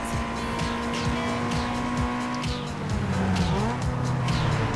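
A car drifts in the Need for Speed Underground 2 racing game: a steady engine drone with shifting pitch, tires squealing and skidding through the slide, constant and loud.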